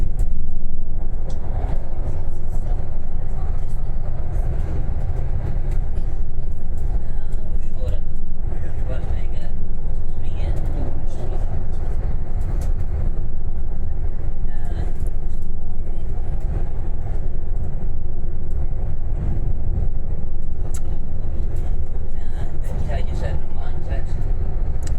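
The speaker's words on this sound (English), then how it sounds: "Pretty smooth, this bus, isn't it?" Loud low rumble of a moving bus heard from inside, a constant engine and road drone with occasional rattles and knocks, while people talk over it.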